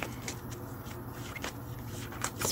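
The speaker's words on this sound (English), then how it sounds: "I'm just going to shuffle and then I'll pull the energy around the reading" Tarot cards being shuffled by hand, soft riffling and sliding bursts repeating irregularly, close and quiet, with no talking.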